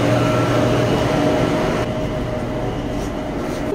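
Bangkok BTS Skytrain car in motion, a loud steady rumble of wheels on rails with a low whine, heard from inside the carriage, easing slightly halfway through, no voices.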